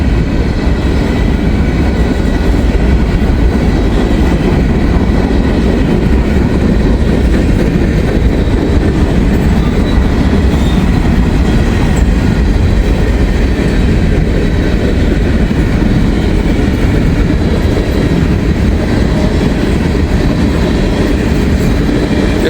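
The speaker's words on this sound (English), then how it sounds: "143 are always monster trains, huge trains." Huge freight train rolling past close by, a loud continuous rumble and rattle of wagons that holds steady throughout with no pauses.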